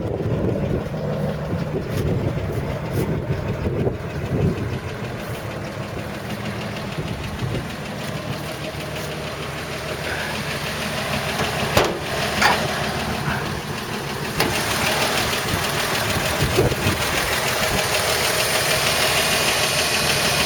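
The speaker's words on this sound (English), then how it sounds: "Runs absolutely beautifully, lovely dry engine." A 1977 Dodge D100 pickup truck idles with a steady low rumble and a faint knocking pulse running for about twenty seconds, heard close up with a few small clunks and no talk.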